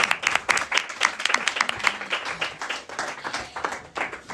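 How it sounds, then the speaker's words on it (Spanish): An audience bursts into applause, dense overlapping claps that carry on loudly and evenly throughout without voices over them. "pero un aplauso"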